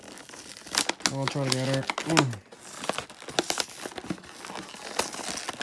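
Cardboard and plastic packaging of a boxed 1/400 scale Aer Lingus model airplane being torn and crinkled open by hand, with crackling rustles throughout under a person talking.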